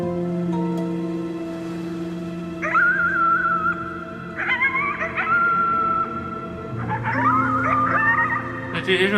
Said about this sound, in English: 这些是狼，哪来的野狼？